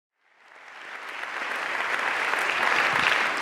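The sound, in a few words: audience applause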